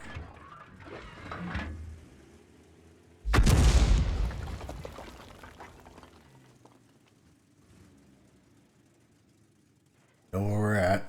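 Blind artillery shells land in an armored vehicle game, a sudden loud boom at about three seconds trailing into rumble, another sharp impact near the end, with brief voice and mechanical noise early on.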